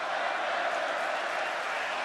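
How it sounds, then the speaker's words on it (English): A wrestling arena crowd roars for the Undertaker in a continuous dense wash of cheering, loud and unbroken, with no distinct voices standing out. "Fans trying to cheer the Undertaker."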